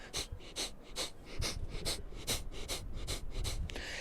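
Slow, deep breaths repeat at an even pace, each a soft airy rush, close and quiet, with no talking.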